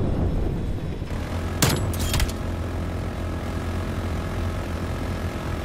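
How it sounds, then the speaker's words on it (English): Enemy spy plane droning overhead in a video game, a steady low propeller hum filling the whole span with a couple of sharp bright bursts early on; no talking. "Hostile spy plane established overhead."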